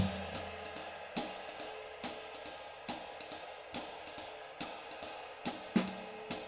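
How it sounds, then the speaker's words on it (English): Bebop-style jazz drumming with a steady ride cymbal wash, crisp snare accents and occasional bass drum hits in a loose, swinging pattern, played alone. "a new modern approach to playing the drums that sounds something like this"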